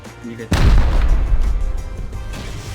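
A sudden loud blast of gunfire in Rust hits after a quiet moment, followed by a rumbling decay with faint further shots.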